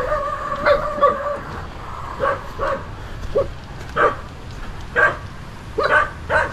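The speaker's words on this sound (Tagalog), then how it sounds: "Yung mga aso." Several dogs bark and yip in irregular bursts, some whimpering between barks, at moderate distance with no one talking.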